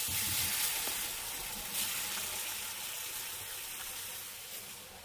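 Milk being added to simmering creamy chicken soup and stirred in slowly, a steady soft bubbling hiss lasting throughout, close and fairly quiet, with no distinct spoon knocks and no talking.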